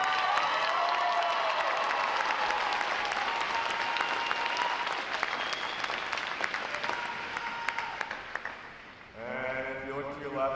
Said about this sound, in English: How about a round of applause for them, folks?